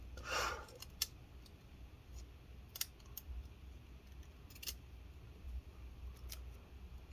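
Scissors snipping tape during an HP Pavilion laptop disassembly, a few quick, close cuts in the quiet followed by scattered faint clicks and handling taps.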